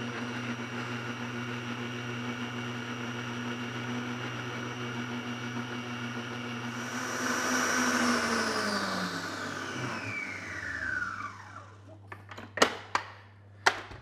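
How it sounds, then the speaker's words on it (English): A stand mixer in a kitchen running steadily with a hum, then ramping up in speed with a rising whine before settling, followed by a few sharp clinks near the end. "we're just going to increase the speed on our mixer a little bit here"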